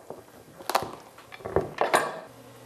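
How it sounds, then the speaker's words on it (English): A sharp knife works into a hard pumpkin, giving a few separate knocks and scrapes spread over a couple of seconds, fairly close and fairly quiet, with no other sound around them. "You just make a little hole in the pumpkin with the point of your knife to get it started"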